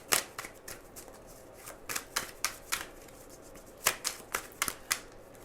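Tarot cards are shuffled close up in a quiet room, a run of crisp riffling bursts and flicks coming in quick irregular clusters with no talking.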